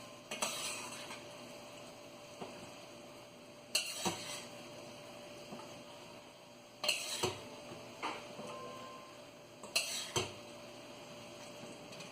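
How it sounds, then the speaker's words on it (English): Cooked chana masala being plated, with sharp metal clinks of a spoon against a pot and dishes at a few spaced moments, quieter scraping and handling between them, close by and with no talking. "I'm just gonna plate it."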